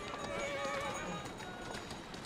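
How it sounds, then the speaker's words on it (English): Steady clip-clop of horse hooves pulling a carriage with an occasional whinny, part of the Assassin's Creed Syndicate game soundtrack, moderately loud and continuous throughout. "we're driving our horse carriage"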